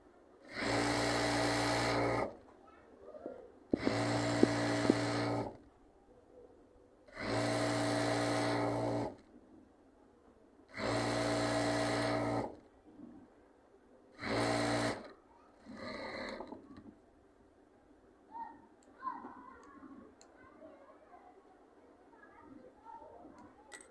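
Sewing machine stitching elastic into a pyjama waistband, five loud, close bursts of fast motor whirring separated by brief pauses, then quieter handling noises.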